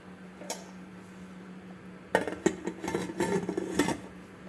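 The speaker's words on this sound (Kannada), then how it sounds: "ಕುಕ್ಕರ್ ಮುಚ್ಚಳ ಮುಚ್ಚಿಬಿಟ್ಟು ಪ್ರೆಷರ್ ಕುಕ್ ಮಾಡ್ಕೊಳ್ಳೋಣ" A pressure cooker lid is fitted and locked over foxtail millet and fenugreek pulao, a run of close metallic clanks and scrapes after a single early knock, with no one talking.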